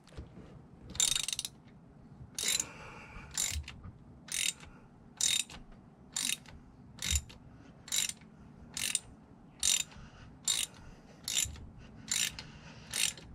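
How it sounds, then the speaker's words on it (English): A wrench ratchets to tighten the oil filter cover on a 2018 Seadoo 300GTX, giving a run of about a dozen crisp, close ratcheting bursts in a steady rhythm with brief pauses between strokes. "And then we'll get our wrench and tighten it a bit."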